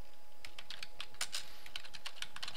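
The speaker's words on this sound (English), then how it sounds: "I can start typing my header" Steady typing on a computer keyboard while writing a header in a Google document, rapid uneven key clicks close to the microphone, with no voices.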